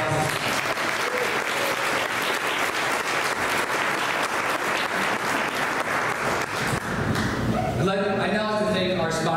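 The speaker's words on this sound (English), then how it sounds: "So let's give Susanna a big round of applause." Audience applause at an LGBTQ awards event, a loud, dense round of clapping that fades toward the end as a voice begins speaking.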